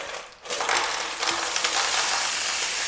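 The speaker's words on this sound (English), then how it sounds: "And when the garlic is popping" Garlic cloves frying in extra virgin olive oil in a pot give off a steady, close crackling sizzle with small pops that starts abruptly and keeps going.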